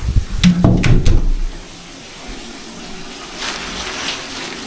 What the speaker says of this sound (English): the tap on for a bit. I'm just going to make it boiling hot.